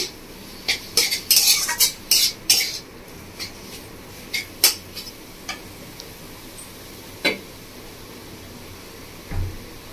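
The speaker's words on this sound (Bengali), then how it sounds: "চাট মশলা দিয়ে ভালো করে ভেজে নেব।" A spoon scrapes and clinks against a pan while a paneer filling with chaat masala is stirred and fried, a burst of rapid metallic taps early on, then sparser knocks and scrapes with quiet gaps.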